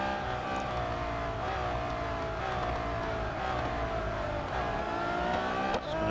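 Race car engines roar in the Real Racing 3 video game, a loud, continuous high-revving drone with shifting pitch as the cars race, close and steady throughout.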